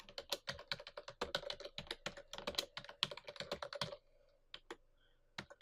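Rapid keystrokes on a computer keyboard enter a password in a quiet room, an irregular burst of close clicks for about four seconds, then a pause and a few scattered final taps.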